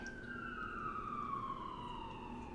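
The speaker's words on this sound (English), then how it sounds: "let me just wait for this siren to stop so that hopefully I don't have to re-record this" An emergency vehicle siren passes outside, its long wailing tone sliding slowly downward in pitch, heard at a distance through a room over a low steady background hum, with no one speaking.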